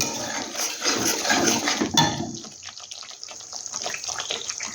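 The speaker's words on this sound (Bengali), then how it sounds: "মশলা দেওয়া বাটি দিয়ে আমি জলটা ধুয়ে দিচ্ছি" Water from a tap runs steadily into a bowl used for spices, splashing and trickling continuously at close range before tapering off to a lighter flow, with no talk over it.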